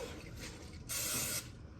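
A short cooking spray aerosol hiss sprays in a couple of quick bursts, the last one louder and lasting about half a second before cutting off.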